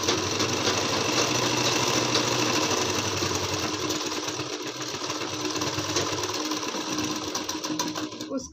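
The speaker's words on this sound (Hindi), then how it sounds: "अब इसके बीच में एक सिलाई लगा देते हैं।" A sewing machine stitches a seam across a patiala salwar, giving a steady, close, rapid mechanical whirr that runs continuously and stops at the end.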